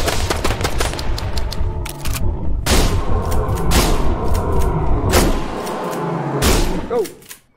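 Gunfire from a gun in a video game comes as loud, rapid volleys of shots with heavy booms, broken by short pauses, then it cuts off at the end.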